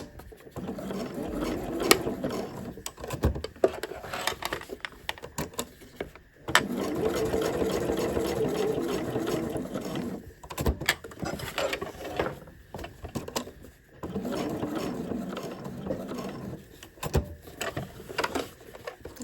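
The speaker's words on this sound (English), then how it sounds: "So I'm going to sew a rectangle so it's nice and strong." A sewing machine stitches a rectangle on a bag strap in several bursts of rapid mechanical whirring, each a few seconds long, with short quiet pauses between them.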